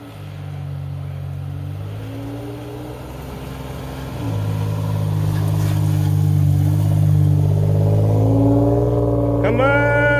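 A Toyota 4Runner engine revs hard, the note climbing as it struggles for traction on an icy road. The steady engine drone is loud and close and runs the whole time. Near the end a shout and short excited voices break in.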